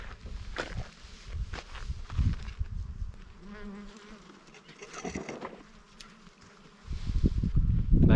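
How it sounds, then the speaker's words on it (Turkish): A steady bee buzz hums through the background at the Kuyucak lavender gardens in Burdur, Turkey, with scattered rustling and footstep-like thumps, growing louder near the end. "Gerçekten inanılmaz seviyede bir arı sesi var."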